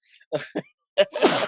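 A person's sneeze, short sharp breathy bursts ending in a loud explosive release, heard close up in a quiet room.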